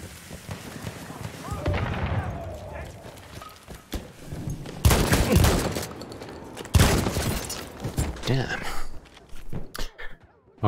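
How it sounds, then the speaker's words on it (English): Scattered gunshots and bursts from a World War 1 video game battle, several sharp loud cracks mixed with rumbling, with a voice talking over the action at times. "Somebody shooting me."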